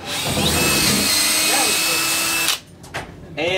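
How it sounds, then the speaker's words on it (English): A power drill bores straight down through a floor, whining loudly and steadily for about two and a half seconds before stopping, followed by brief quieter sounds. "I'm drilling straight down through the floor,"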